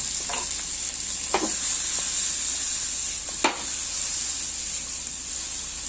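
Chicken pieces sizzle in a generous amount of oil and butter in a pan, a steady loud hiss broken by a few scraping stirs, with no voices.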